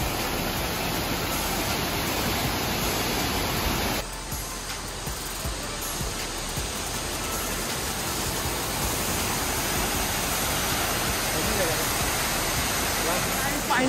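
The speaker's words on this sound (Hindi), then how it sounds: "और ये हमारा वाटरफॉल" The Domjhira waterfall rushes in a loud, constant broadband roar close by. The wash of water shifts slightly partway through and continues without a break to the end.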